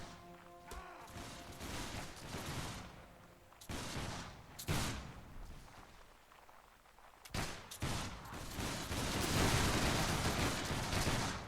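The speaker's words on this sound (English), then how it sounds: "Fire at will!" Muskets fire at will in the video game Mount & Blade Warband, set in the era of the Sun King: repeated loud, ragged volleys and scattered shots crackle over a continuous rumble of battle, with a few sharp cracks standing out.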